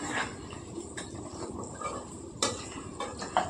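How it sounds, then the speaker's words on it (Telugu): Chicken pieces frying slowly in oil over a low flame give a soft, faint sizzle, broken by a few quiet clinks and stirring scrapes of a utensil against the pan. "నేను సిమ్లో పెట్టుకొని వేపుకుంటున్నానండి మెల్లిగాని"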